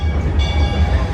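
An amusement park train ride at Six Flags Over Texas rumbles along with a continuous low, heavy rolling drone and faint rhythmic clatter, close and fairly loud.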